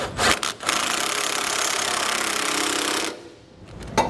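A 15/16 socket on a power tool runs down nylon lock nuts on a hidden trailer hitch receiver, one long loud whirring run of about two and a half seconds, close by, followed by a brief clunk.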